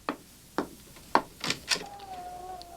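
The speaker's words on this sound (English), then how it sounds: "That's probably her at the door." Door sounds in a radio drama as a visitor arrives: five sharp, knock-like hits at uneven intervals, followed by a thin, steady tone that lingers quietly. No one talks.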